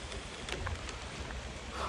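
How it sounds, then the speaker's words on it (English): Rain falls steadily outdoors during an Indiana bowhunt, a soft, dense hiss with a few nearby drops tapping close to the microphone and no talking. "But now it's raining."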